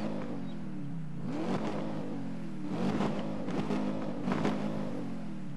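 An American car engine in the racing game Need for Speed Rivals revs and surges in repeated rising bursts, a loud steady drone swelling and falling with each throttle push, no talk over it.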